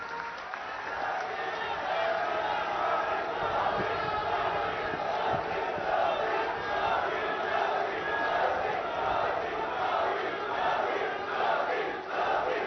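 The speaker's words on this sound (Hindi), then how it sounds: "जोरदार तालियों के बीच" Loud, dense crowd applause and cheering for Prime Minister Modi at a public event in Punjab, a steady roar of clapping that holds throughout.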